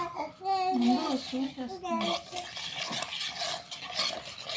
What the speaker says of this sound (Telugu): మొత్తం వేసి కలిపేస్తుంది అంతే